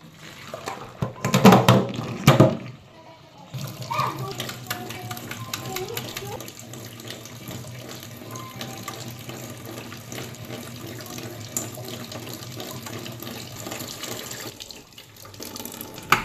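Peeled boiled eggs rinsed under a running kitchen tap, a steady stream of water splashing into a sink with a louder burst of handling near the start and a pause near the end.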